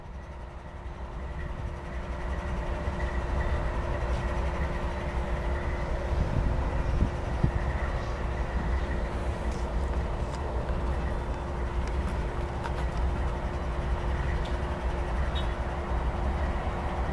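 A light rail train rolls through a rail yard with a steady, broad rumble and hiss that holds for the whole span, plus faint clanks and a thin sustained tone over it.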